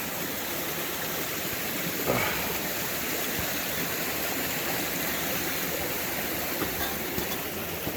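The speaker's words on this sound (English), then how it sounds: "we're crossing Bighorn Creek here." Bighorn Creek rushes steadily while being crossed on foot, a continuous close broadband wash of flowing water with no talking.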